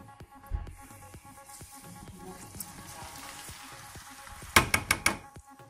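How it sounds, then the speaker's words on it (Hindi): Onions drop into hot mustard oil and fry with a soft, steady sizzle, punctuated near the end by a quick cluster of sharp clatters from stirring. "हमारा ऑयल जो है वो गर्म हो चुका है अभी हम इसमें ऐड करते हैं बहुत प्याज"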